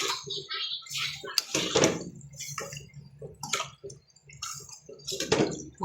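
Water poured into a pot of chicken and tomatoes and then stirred, with splashing and sloshing bursts up close and short pauses between.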